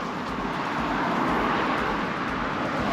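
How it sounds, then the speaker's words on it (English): A car approaching along a road in a UK street, a steady broad rushing roar that builds slightly toward the middle, heard alone without talk. "Car coming though, wait a minute."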